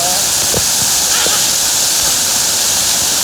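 Steady rushing water of a hot spring waterfall pours continuously, with a few faint splashes and brief voice fragments under the roar.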